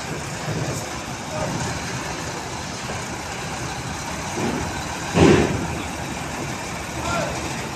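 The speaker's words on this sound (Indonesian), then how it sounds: "Ini yang ketiga ya teman ya, yaitu kendaraan truk tambang." A large mining truck's engine rumbles steadily in a broad, heavy drone, swelling briefly with a louder roaring burst midway, with faint voices mixed into the background.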